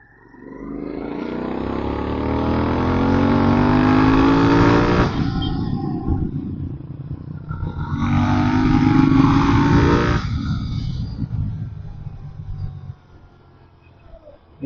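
A Royal Enfield GT 650 twin-cylinder motorcycle revs loudly twice, each blip climbing and then dropping back, before settling to a low rumbling idle close by.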